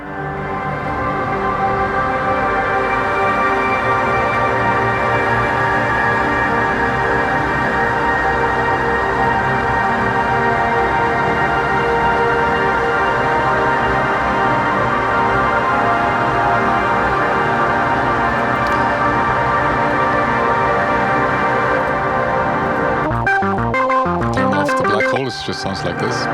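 A Bass Station II synthesizer set to random pitch jumps plays a dense, continuous layered drone that fills nearly the whole stretch at high volume, then breaks into choppy, stuttering fragments before cutting out near the end.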